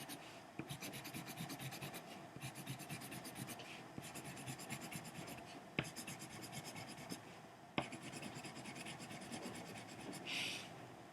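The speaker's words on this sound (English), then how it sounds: "And take a moment to color in your black keys." Pencil scribbling across paper while shading in the black keys of a hand-drawn paper piano, a steady scratchy rubbing in bursts with short pauses between strokes, close and fairly quiet.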